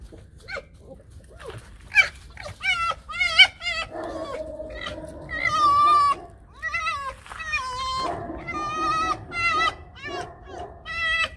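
Dogs near a fox give short whimpering and yelping calls in bursts, close and fairly loud, with whiny barks breaking through now and then.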